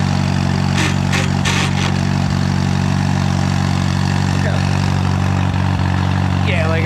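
A 1944 Allis Chalmers B tractor engine runs loud and steady at a low, even chug, with a slightly grindy clutch and some clanks and rattles early on.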